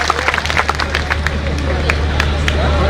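Crowd at a political rally in Gujarat breaking into applause, dense clapping mixed with crowd hubbub and a steady low hum from a loudspeaker system.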